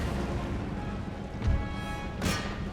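Cannon artillery firing in the Total War: Empire battle game, with a couple of distant booms thudding over a dense, continuous rumble of battle noise, no talk.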